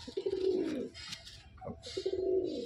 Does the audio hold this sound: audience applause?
no